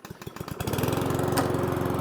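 A Cobra MX460SPC petrol lawnmower engine fires on a pull-cord start, sputtering briefly before settling into a steady, close, loud running drone with no talk.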